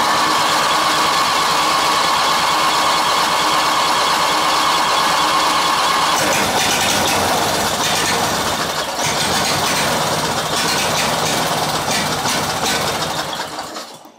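Craftsman LTX1000 riding mower engine running with its choke set wrong, a loud steady idle with rattling buzz that shifts in tone midway and cuts out at the end.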